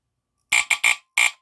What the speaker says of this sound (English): So that is the FireX, very rare FireX smoke detector, model FXC-1, the line cord model.